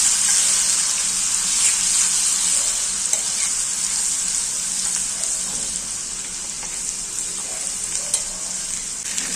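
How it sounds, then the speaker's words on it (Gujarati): Cumin, asafoetida, turmeric and garlic sauté in hot oil for bhindi masala, a loud steady sizzle with stirring scrapes, close and continuous without talk. "અને બરાબર સાતળમાં દેવાનું છે."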